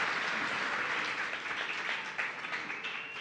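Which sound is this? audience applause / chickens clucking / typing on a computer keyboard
audience applause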